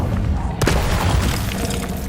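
A loud fire-spell blast goes off in a video game, a sudden boom-like burst that rises sharply and then trails into a sustained crackling rush over steady background noise.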